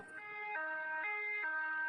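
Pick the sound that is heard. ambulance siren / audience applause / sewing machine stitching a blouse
ambulance siren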